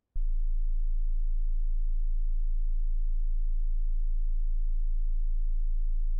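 A pure 27.5 hertz low A sine tone, a steady deep hum starting abruptly and holding at constant level for several seconds, alone.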